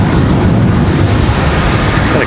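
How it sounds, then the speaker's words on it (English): A Piedmont Airlines ERJ 145 regional jet departs Charlotte Douglas International Airport, bound for Harrisburg, with a loud, steady, broadband jet roar that holds constant for the whole stretch. "ERJ 145, Piedmont Airlines headed off to Harrisburg"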